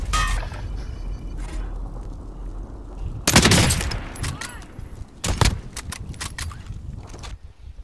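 Gunfire in Warzone, a couple of sharp, loud shots that crack out close by among quieter ambient noise and faint scattered shots, with a voice talking at times.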